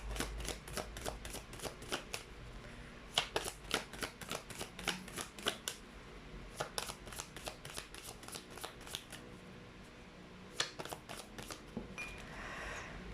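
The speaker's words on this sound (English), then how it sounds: "let's try to pull up a fortune card" Cards snapping crisply in rapid bursts of riffle shuffles, several separate rounds with short pauses between them, close and clear with a faint hiss of room noise behind, during a fortune card reading.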